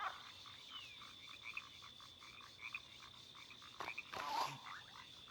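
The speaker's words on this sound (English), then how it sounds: "Here's a frog." A frog creature in the Spore video game croaks in a steady run of short, repeated calls, fairly close, over a faint ambient game background, with a louder burst near the end and no talk.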